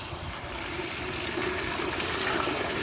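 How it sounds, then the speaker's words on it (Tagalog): Water pouring steadily into a swimming pool being cleaned, a constant broad rushing wash with no breaks, fairly loud and close, no talking over it. "Tapos lagyan mo ng tubig."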